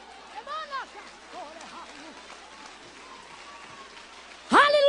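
Audience applause at a church sermon, a soft steady patter of clapping running under a woman preacher's voice and the audience's responses.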